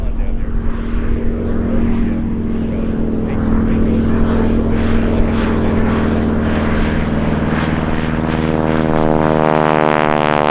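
A propeller airplane arriving at Oshkosh AirVenture in a crosswind, its engine drone loud and steady throughout with a strong low hum, the pitch shifting toward the end as it passes close.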